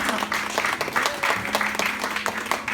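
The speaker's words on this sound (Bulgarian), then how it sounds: "Така че да пляскаме за вас." An audience claps and applauds in a steady, dense wash of hand claps that holds at even loudness throughout, with a voice faintly audible beneath.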